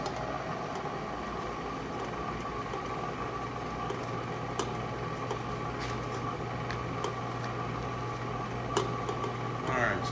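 Puff pastry dough churning in a mixer as butter is added, a steady low mechanical hum with a faint rhythmic knocking running throughout at moderate level.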